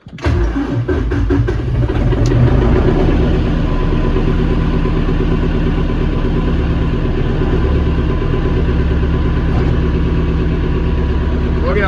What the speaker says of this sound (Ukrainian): Одного трактора завели